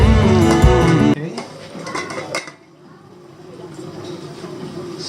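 A utensil scrapes and clanks against a pan while chicken liver adobo (adobong atay) is stirred, busy metallic clatter for the first second, then a few softer scrapes and taps that fade into quiet room noise.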